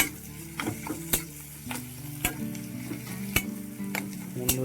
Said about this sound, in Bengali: ভাজা মশলা দিয়ে ভালো করে মিক্স করে নিতে হবে